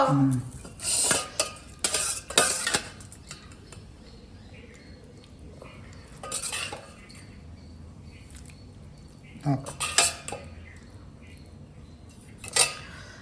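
A spoon scrapes and clinks against a plate in a few short, separate bursts while dal is served, with quiet gaps between them. The sounds are close and moderately loud, and there is no talking.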